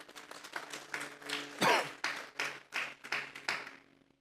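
Church congregation at a Spanish-language sermon claps in uneven bursts, a modest group of hands slapping close by with gaps between rounds, one louder burst in the middle, fading at the end.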